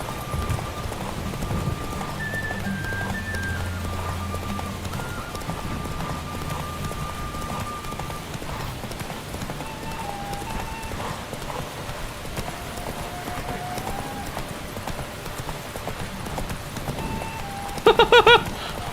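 Roach, Geralt's horse in The Witcher, gallops with continuous rapid hoofbeats under rain-like ambience and game music throughout, a louder clatter near the end.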